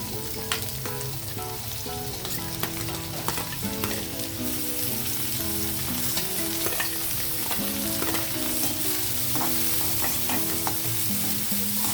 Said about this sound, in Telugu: ఇదిగోండి, ఆయిల్ హీట్ అయ్యింది. నేను ఆనియన్ వేస్తున్నాను.